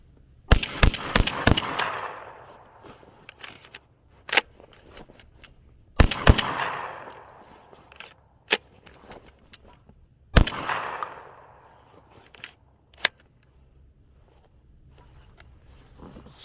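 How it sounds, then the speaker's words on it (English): Revolution Armory Impact R4 shotgun firing in three bursts of rapid, loud, close shots, each quick string of blasts followed by a ringing decay, with a few single sharp cracks in between. "But we'll keep shooting here."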